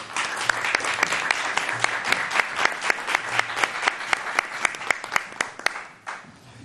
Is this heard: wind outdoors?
no